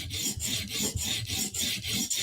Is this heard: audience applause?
no